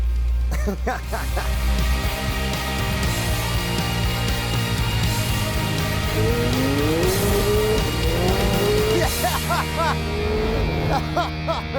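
A McLaren sports car is driven hard on the road, its engine revving and rising in pitch while the tires squeal through the turns. The loud, continuous roar and wavering squeal fill the whole stretch.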